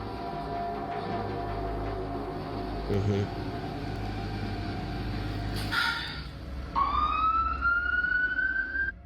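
An ambulance siren rises and wails near the end, rising over a steady background rumble and murmuring noise.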